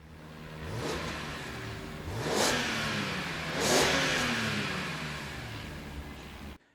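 Stock engine of a BMW Z4 M Coupe with factory individual throttle bodies, revving up and dropping back a few times in a row, close by, loud and muted-sounding, with no talking.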